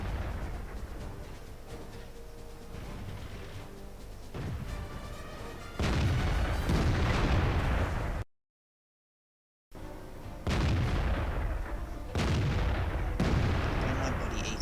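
Artillery fire in a tank battle video game, with heavy booming shots and rumbling blasts, a brief silent gap midway, then more loud bursts of gunfire.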